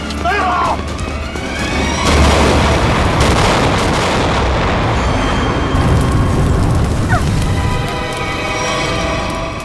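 A grenade blast in a staged police action scene at a petrol pump, a loud booming burst that swells about two seconds in and rumbles on with dense debris-like noise before fading.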